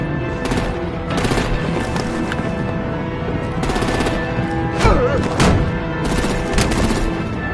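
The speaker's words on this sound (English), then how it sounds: "Break out the artillery and disable their vehicles!" Heavy gunfire and artillery in the Batman: The Enemy Within video game, with repeated bursts of shots over a steady rumble, loud and close, some raised voices mixed in.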